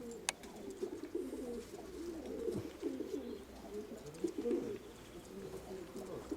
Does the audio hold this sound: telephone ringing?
no